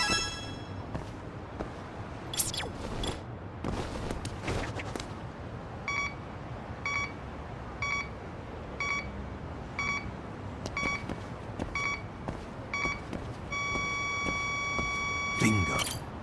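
Repeated electronic beeps from a bugged wallet's signal tracker in Lost Judgment, evenly spaced pulses that quicken into a steady tone near the end, over a busy game soundscape with brief sharp noises.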